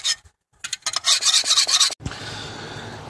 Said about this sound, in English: So grind on the smaller side, swipe it off on the larger side, and that's just going to even things out after a while.